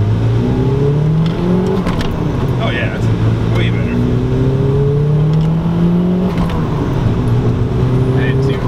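A turbocharged project car accelerates hard under boost, its engine note climbing steadily through the gears from inside the cabin while people talk over it.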